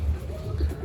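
A racing pigeon cooing at its loft, a low, soft throaty coo heard close by, with murmured talk faintly in the background.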